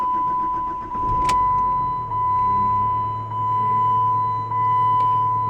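A Chrysler PT Cruiser, its ignition switch just replaced, is started: a continuous steady electronic chime, a brief starter crank, then the engine catches and settles into a low steady idle close by.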